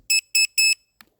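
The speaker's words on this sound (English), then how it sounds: "to get rid of the beeping." A Zino Mini SE drone controller sounds its alarm outdoors in cold weather: three loud, evenly spaced shrill electronic beeps in quick succession, followed by a faint click and near silence.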